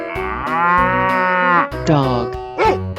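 Cow in a 3D animal sliding video game gives a loud, drawn-out moo followed by shorter lowing calls over a light music backing.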